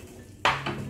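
A spoon stirs cream into methi malai matar gravy in a pan, making one sudden clink and a brief scraping swish against the metal. The sound is close, short and heard alone.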